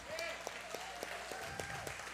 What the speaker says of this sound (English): How about the rest of you stand and clap for the veterans that stay seated?